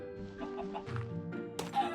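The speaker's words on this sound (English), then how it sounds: "lure a chicken into it, build up a little tower, and use the dripstone to kill it" A chicken in the Minecraft video game gives several quick, soft clucks over a steady game background, moderately loud, with a brighter squawk near the end.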